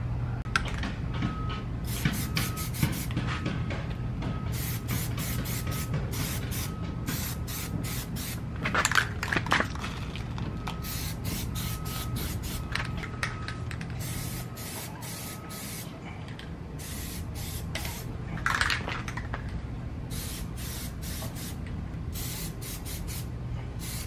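Aerosol spray can laying a Plastidip coat on a Mazda3, heard as repeated hissing bursts of varying length with short pauses between, close and steady, over a low background hum.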